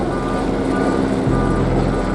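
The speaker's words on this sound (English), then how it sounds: "flying that helicopter" A helicopter flies overhead, a steady, droning engine-and-rotor rumble that holds at a constant level throughout.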